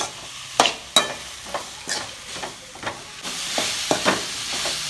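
Bitter gourd and tomatoes stirred in a pan, sharp spatula knocks and scrapes at irregular intervals over a soft, low sizzle, close by and without voices.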